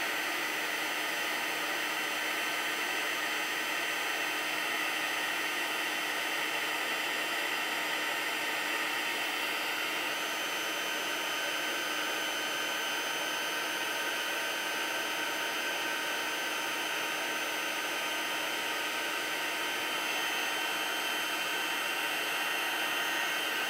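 A heat tool blows a loud, constant whooshing hum at close range while melting embossing powder on a Halloween treat bag. The hum stays unbroken throughout, with no talk.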